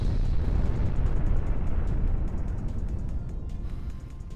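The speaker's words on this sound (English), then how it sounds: "blow stuff up with it because it's got the big explosions" Big, rumbling explosions from the mech video game The Sand Knight, a dense continuous roar of blasts and booms that stays loud throughout and eases slightly toward the end, with no talking.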